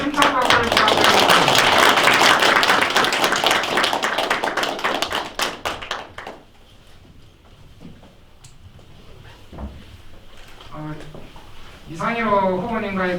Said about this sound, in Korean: 다시 감사의 박수를, 칭찬 박수를 부탁드립니다.